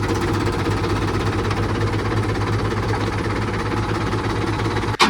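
Kubota tractor engine running while stuck in mud, a steady, loud low-pitched chugging drone throughout with no talk, ending in a brief knock.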